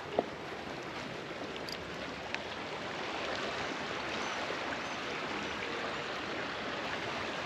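The flowing current of Arroio Velhaco, a swollen stream on a sunny day, makes a steady, close, unbroken rush of water that stays even in loudness throughout with no voices.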